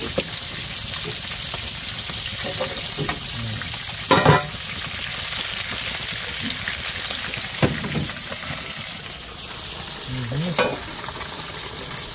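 Pot of mud crab and vegetables for sinigang bubbling and sizzling steadily over heat, with a constant hiss and a few louder bursts and clinks, close and alone with no talk.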